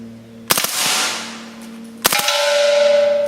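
Two sharp 9mm gunshots from an HK MP5 strike propane tanks outdoors, each crack followed by a bright, ringing metallic clang that hangs and slowly fades, with a steady tone lingering after the second hit.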